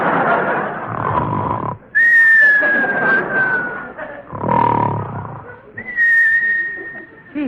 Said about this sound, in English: Now come the whistles.